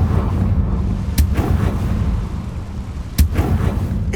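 A Confringo fire spell in Hogwarts Legacy erupts in heavy booming blasts, with two sharp explosive impacts over a deep rumbling background, loud and close, with no talking.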